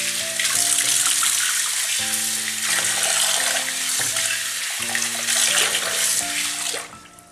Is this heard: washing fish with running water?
yes